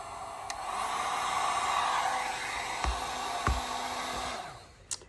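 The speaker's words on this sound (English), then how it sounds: "And then I'm going to use the heat gun right there." A heat gun blows a steady, loud broadband rush of air over 3D puff embroidery, holding constant for several seconds with a couple of faint clicks before it cuts off near the end; no one speaks.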